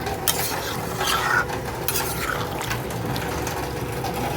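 Water is poured into a thick chicken curry with pointed gourd as it cooks. There is a steady splashing, sizzling wash with stirring scrapes on top, close and fairly loud, with no voices.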